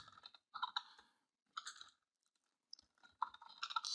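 Computer keyboard keys being typed in short clicky bursts separated by brief pauses, close and fairly quiet with no talking.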